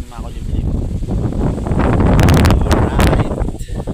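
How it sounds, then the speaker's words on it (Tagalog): Wind buffets the microphone on a road trip in Albay, gusting and rumbling loudly, with a voice partly audible amid the rush. "Ngayon mahangin."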